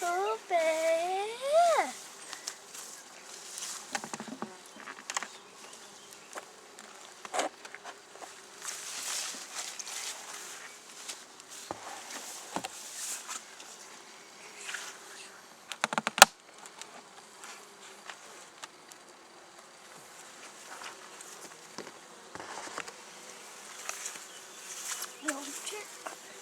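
Honeybees drone steadily at a top bar hive, a continuous near buzz that swells and fades with passing insects, with occasional footsteps and handling noises and one sharp knock partway through.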